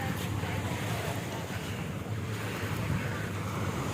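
Sea waves wash steadily at Anawangin Cove in Zambales, a continuous broadband surf roar blended with wind buffeting the microphone and a low rumble. It stays even and fairly loud for the whole stretch, with no speech.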